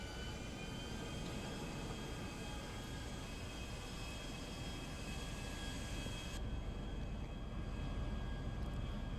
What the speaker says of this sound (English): It feels like a normal jet already.